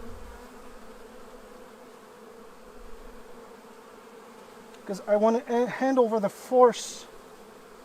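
Honey bees buzzing steadily on a hive frame during a colony inspection, a continuous close drone that a voice talks over near the end.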